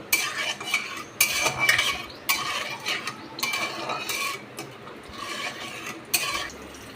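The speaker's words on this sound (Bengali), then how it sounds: "এবার আমি এর মধ্যে দিচ্ছি কিছুটা পাঁচফোড়ন সোমবার, আর দিয়ে দিচ্ছি দুটো কাঁচা লঙ্কা, দিয়ে আমি এটাকে একটু খুব ভালোভাবে নাড়াবো।" A spoon scrapes and clanks repeatedly in a wok, stirring panch phoron and green chillies in hot mustard oil, with irregular metallic strokes over a soft sizzle, close and fairly loud.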